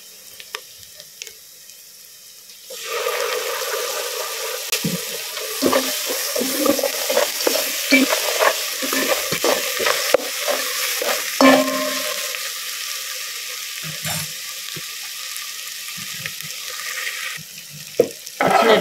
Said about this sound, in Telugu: అల్లం వెల్లుల్లి పేస్ట్ వేస్తానండి.